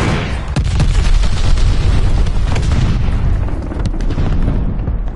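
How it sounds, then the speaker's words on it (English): A glide bomb exploding in Call of Duty: Vanguard Zombies, a very loud sustained blast with heavy rumbling and crackling debris that slowly fades over several seconds. "Got an enemy glide bomb on the way"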